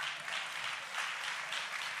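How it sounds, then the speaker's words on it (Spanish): Audience applause in a church Bible study setting, a steady broadband wash of many hands clapping, moderately loud and continuous with no pauses, heard alone without talk. "You're not sure whether to clap or not."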